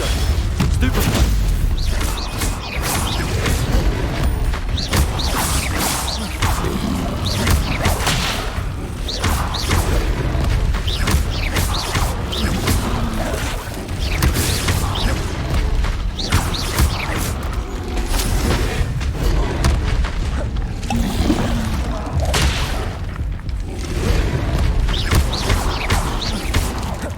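Confringo blasting spells go off in a Harry Potter video game: a dense, loud barrage of booms, crashes and thuds with clattering effects, continuing throughout with no break.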